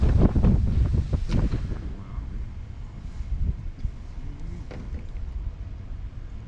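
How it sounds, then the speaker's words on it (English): Strong gusting wind buffets the microphone on a lake during crappie fishing, loud and rumbling at first then easing into a steady blustery roar, with faint water movement and no talk. "But this wind is brutal."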